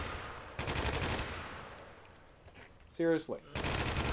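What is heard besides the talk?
gunfire from a gun in a video game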